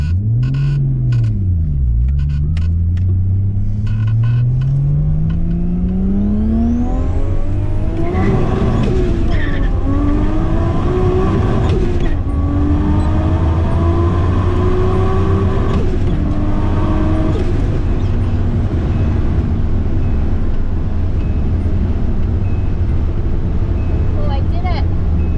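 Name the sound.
cars accelerating in a roll race on a drag strip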